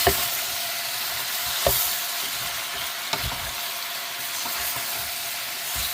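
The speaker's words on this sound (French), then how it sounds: "Et hop, on touille bien." Ratatouille vegetables with sugar, salt and pepper are stirred in a hot pan, a steady close sizzle with occasional sharp scrapes and clacks of the spoon against the pot.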